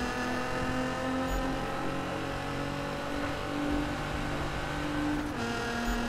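A car engine drones steadily through several seconds of acceleration while the driver tries to drift a corner, a moderate, continuous engine hum with faint shifts in pitch and no speech.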